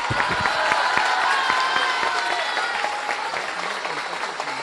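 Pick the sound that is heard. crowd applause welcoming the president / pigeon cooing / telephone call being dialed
crowd applause welcoming the president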